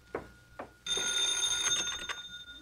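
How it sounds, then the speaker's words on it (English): Old-style telephone bell rings loudly and continuously in a radio comedy household scene, a steady metallic jangle after a couple of brief faint sounds, with no talk over it. "how come you're answering the phone?"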